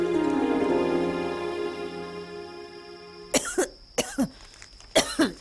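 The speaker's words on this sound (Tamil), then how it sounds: "வெறும் வரட்டு இருமல் தான்" Three short bursts of dry coughing come in quick succession near the end, each a sharp, close, harsh hack. They follow a few seconds of steady, tonal background sound.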